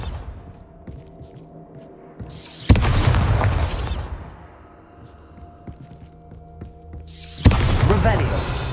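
In the Hogwarts Legacy video game, the Bombarda blasting spell goes off twice, about five seconds apart. Each is a loud, sudden boom with a crackling, rumbling tail, set over quiet game ambience.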